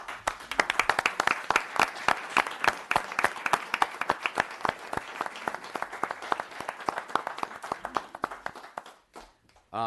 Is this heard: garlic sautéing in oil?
no